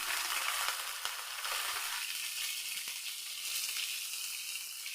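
Ginger and green chillies frying in a pan, a bright, steady sizzle of oil with crackling pops that carries on continuously, close and fairly soft.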